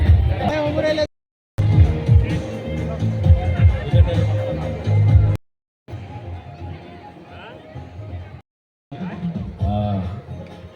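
Dense crowd chatter and babble at a wedding gathering, a steady mass of overlapping voices close around with gaps of silence between segments.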